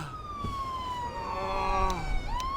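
A police car siren in a roleplay video game wails steadily in a long sweeping tone that falls and then rises again, fairly loud and continuous against faint background noise.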